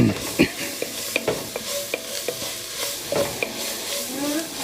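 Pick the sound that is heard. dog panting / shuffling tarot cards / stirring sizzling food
stirring sizzling food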